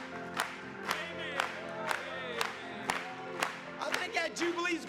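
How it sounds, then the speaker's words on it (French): A church congregation cheers and claps during a jubilant sermon service, a loud sustained crowd roar with bursts of applause and shouts rising and falling. "Acclamons encore pour lui."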